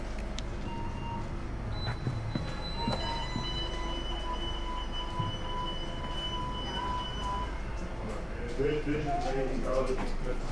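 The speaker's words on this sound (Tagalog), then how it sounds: "Maraming mga train dyan na dumadaan yun." A train passing in Rotterdam, a continuous rumble of rolling wheels with brief squealing tones, heard under nearby talk that rises toward the end.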